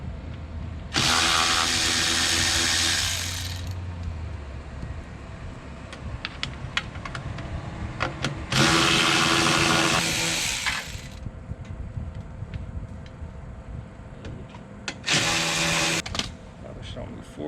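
Power tool loosening the bolts that hold the cells of a Toyota Prius hybrid battery, three loud whirring bursts of a few seconds each, close by, with quieter clinks and workshop noise between them.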